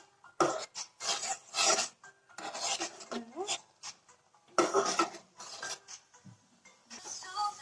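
A utensil scrapes and rasps against a pan while grated coconut and milk powder are mixed, in short repeated strokes with pauses between them and occasional light clinks.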